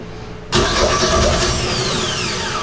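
A budget boat's outboard engine cranks and catches suddenly, then runs at a steady, loud idle close by.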